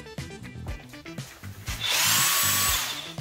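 DeWalt cordless impact wrench running: a few short clicks and trigger taps, then a loud, close, sustained high-pitched motor whine lasting about a second before it winds down.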